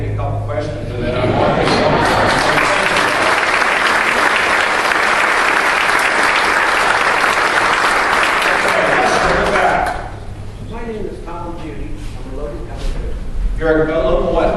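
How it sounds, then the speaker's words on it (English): An audience at the historic Canby building gives the governor sustained, dense applause that dips briefly before continuing, loud and close throughout. "So you can give me some polite applause"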